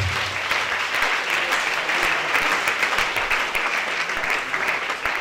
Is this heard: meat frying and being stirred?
no